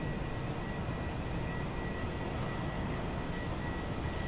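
An airliner taxis at Sydney Airport at night, heard as a steady broadband engine roar without breaks, constant in level and fairly close.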